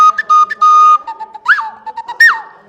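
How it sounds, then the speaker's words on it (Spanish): Wooden Amazon coyoc whistle made from agave stalk, played close and loud with sustained steady tones, then swooping bird-like chirps and trills, alone without speech. "con los troncos pequeños hago o estos silbatos de Amazonas, el silbato coyoc"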